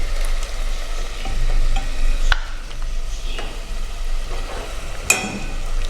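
Yogurt sizzles in a pan of kachnar gosht as it is stirred, with a steady frying hiss, scraping spoon strokes and a few sharp clinks against the pot, and no voices.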